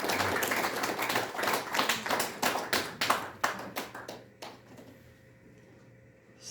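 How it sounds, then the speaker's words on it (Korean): Audience applause at a museum opening ceremony, a crowd of many hands clapping steadily before thinning into scattered claps and fading out near the end. "다시 한번 크게 박수 보내드립니다"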